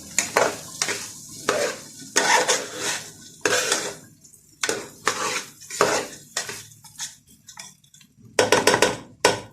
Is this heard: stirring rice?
yes